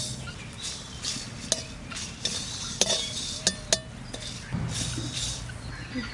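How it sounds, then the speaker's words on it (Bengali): Dry red chillies, black peppercorns and coriander seeds frying in a pan for a braised duck curry, with scattered metallic clinks and scrapes of a spatula stirring over a soft, steady background sizzle. "মাংস রান্না করার জন্য আমি কিছু মশলা ভেজে নেব"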